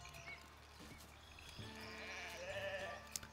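Cattle low in the medieval city-building video game Foundation, a few moos rising over a steady farm-and-village ambience, moderately close and alone without talk.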